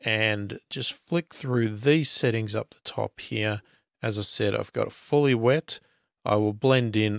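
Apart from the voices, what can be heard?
None of the usual background noises is heard.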